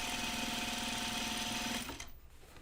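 A sewing machine stitching a long side seam on a pair of jeans, running with a steady fast mechanical whir close by, then stopping abruptly near the end with only faint room noise after.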